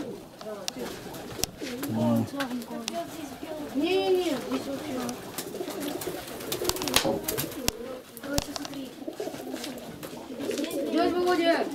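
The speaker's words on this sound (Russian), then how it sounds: "Вон какой голубь сидит." Pigeons coo repeatedly at a dovecote, a mix of near and farther calls, with children and adults talking over them throughout.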